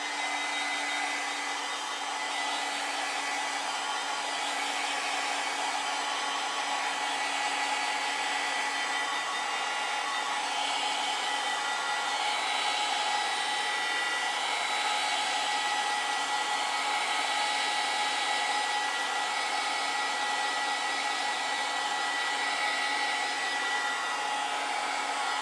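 A hair dryer drying a watercolor landscape painting, blowing as one steady, loud, unbroken whir for about twenty-five seconds, with no talking over it.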